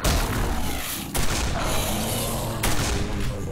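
Loud bursts of gunfire with booming impacts in the video game Quake 4, several shots in quick succession, dense and close, with no talking.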